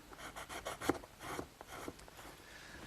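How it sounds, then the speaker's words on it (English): Self-adhering sandpaper on a small wooden block rubbing wood by hand, a faint, quiet series of rhythmic back-and-forth scratchy strokes, close up with no talking. "using a piece of self-adhering sandpaper on a little block of wood, I can get into the little corners that the drum doesn't hit"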